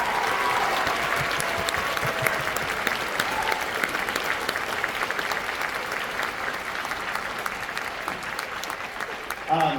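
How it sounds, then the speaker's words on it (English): Steady applause fills the hall at a spring school band concert, a dense, even clatter of many hands sustained for about ten seconds at moderate distance, with faint voices beneath. "But one more round of applause for Charlie for helping us out."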